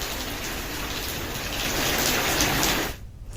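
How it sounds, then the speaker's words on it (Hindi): Heavy monsoon rain pours steadily in Haryana, India, a dense, even hiss of falling water that swells slightly midway, then cuts off sharply near the end. "हरियाणा में भी लगातार बारिश हो रही है।"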